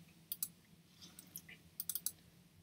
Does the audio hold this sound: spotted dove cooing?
no